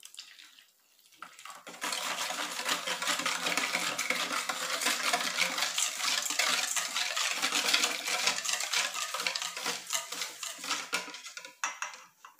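Bread dough is mixed with warm milk in a bowl: a spoon clinks and scrapes steadily against the side, close and continuous, after a quiet start.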